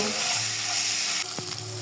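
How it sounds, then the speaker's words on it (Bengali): Loud, crackling sizzle of eggs frying in oil, close by, with a brief utensil clink as the hiss continues. "ডিম লাল করে ভেজে নিয়েছি তুলে নিব"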